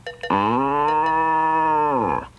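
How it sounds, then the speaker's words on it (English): A single long cow moo, loud and close, swelling after a couple of short grunts and holding steady for nearly two seconds before trailing off, with no voices around it. "an old cow named Milky White"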